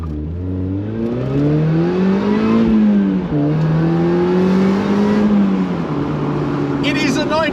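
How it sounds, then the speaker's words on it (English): A supercharged 1993 Mazda MX5 Mark 1 roadster engine climbs in a smooth rev, holds a high steady drone, then eases back down, loud and close, with a voice speaking over it. "this is a supercharged Mark 1 MX5"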